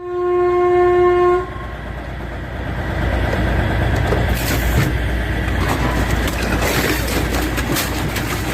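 A train passes through a station, opening with a loud sustained horn blast, then a continuous heavy rumble and rattle of railcars with clicking wheels and squeals close by.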